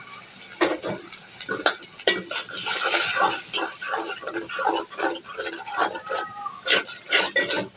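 Turmeric, chili and coriander powder with salt being fried in a pan, a close sizzle broken by repeated scraping and stirring strokes against the metal.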